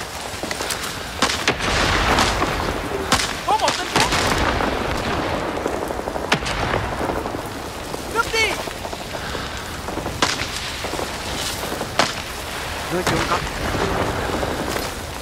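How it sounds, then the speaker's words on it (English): Napalm airstrike and gunfire in Rising Storm 2: Vietnam, a steady loud roar of burning and rumbling blasts with scattered sharp gunshots throughout, dense and continuous battle noise. "One napalm airstrike coming above Alpha."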